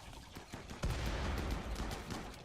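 Shotguns blasting in a RimWorld colony battle against bugs, with grenades in play: a dense, continuous barrage of overlapping gunshots, heaviest after the first second, loud throughout with no voices.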